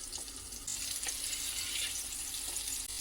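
Semolina-coated black pomfret fries in hot oil with extra oil added at the side of the pan, giving a steady, close, crackling sizzle that swells slightly after the first moment and continues without voices.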